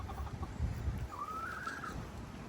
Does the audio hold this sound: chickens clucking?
yes